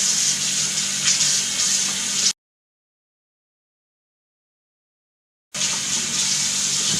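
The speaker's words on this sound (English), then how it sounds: "the next step is we want to wash all of these stalks. Put them under the water and" Running tap water gushes steadily over rhubarb stalks being rinsed in a kitchen sink, heard close in two stretches with a silent gap between them and no talk.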